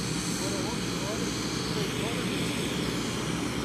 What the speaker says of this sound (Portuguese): O avião vai agora taxiando.